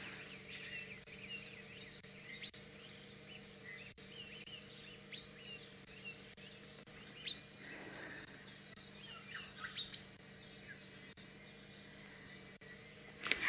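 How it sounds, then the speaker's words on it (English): Birds call and chirp around dawn in the African bush, scattered short tweets and warbles over a quiet hum, mostly faint with a few closer bursts. "I love the sounds of the birds waking up in the Mowati."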